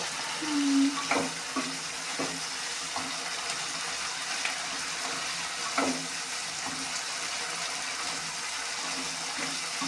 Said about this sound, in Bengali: ভাজা ভাজা হবে যতক্ষণ না তেল ছাড়ছে কড়াই থেকে ততক্ষণ আপনি মশলাটা এভাবে ভাজা ভাজা হবে